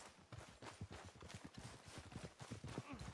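Rapid, rhythmic clip-clop of horse hooves on hard ground in the video game Red Dead Redemption 2, close and steady throughout.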